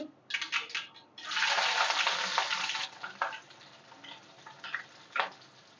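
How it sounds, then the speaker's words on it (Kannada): Onions hit hot oil for a tempering and sizzle up in a sudden bright hiss, which then settles into softer crackling with a few stirring clicks, close and alone. "ಈರುಳ್ಳಿ ಹಾಕ್ತಾಯಿದ್ದೀನಿ."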